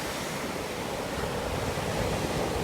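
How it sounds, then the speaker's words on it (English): Ocean waves wash onto a warm beach at a surfing spot, a broad steady hiss of surf mixed with gusting wind buffeting the microphone, continuous and fairly loud with no talking. "Nice waves."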